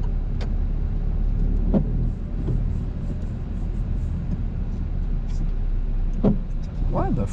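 A learner's car pulls away during a French driving lesson, heard from inside the cabin as a steady low engine rumble with road noise throughout and faint voices at times.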